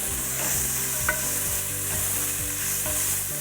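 Chard stems and garlic sizzle steadily in a hot pan while a utensil stirs and scrapes through them at regular intervals, close and constant with no talking.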